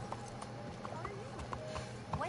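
A horse's hooves clop softly under continuous talking in Red Dead Redemption 2, the irregular footfalls faint and partly masked by a voice and game ambience.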